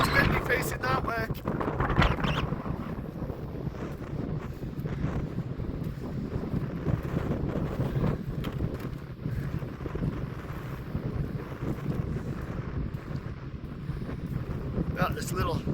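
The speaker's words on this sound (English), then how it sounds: "Oh, it's windy facing that way." Steady wind buffets the microphone on a walk down toward a beach and mud flats on Malcolm Island, a constant low roar and rumble throughout.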